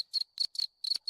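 A cricket chirping sound effect from a Discord soundboard plays alone: five crisp, evenly spaced chirp bursts over a thin continuous high tone.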